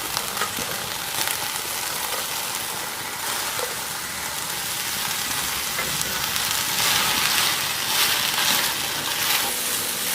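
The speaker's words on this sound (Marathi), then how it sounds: "पॅनमध्ये तेल वगैरे काहीच घातलं नाही. गॅस चालू करून घेतला आहे आणि धुतलेल्या शिंगऱ्या टाकून घ्यायच्या आपल्याला" Washed radish pods (shingrya) dry-roasting in a pan with no oil over a gas flame give a steady, broad sizzling hiss that runs the whole time, with faint clatter and no voices.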